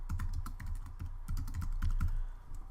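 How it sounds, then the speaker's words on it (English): Fast, steady clicking keystrokes on a computer keyboard, close and fairly quiet, with no talking over it. "So I'll just type in one other code for you guys."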